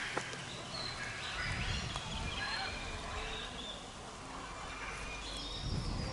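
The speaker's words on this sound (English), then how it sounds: "Lots of birds in the woods around. Probably you also can hear them." Birds calling in the woods around the Copan Maya ruins in Honduras, scattered chirps and whistles heard faintly over a steady outdoor background.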